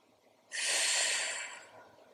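One long, strong exhale through the nose or mouth during a gentle floor stretching flow, rising suddenly and fading slowly over about a second, close and alone.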